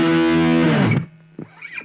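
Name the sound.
guitar distortion sound through Nux Mighty Lite amplifier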